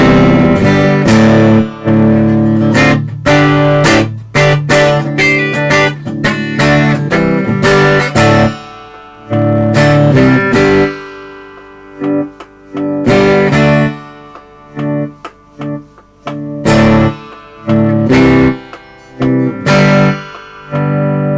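Clean electric guitar with a 500k volume pot and the distortion off, loud and close: strummed chords and picked phrases ring out in bursts with short gaps between them, and no voice is heard.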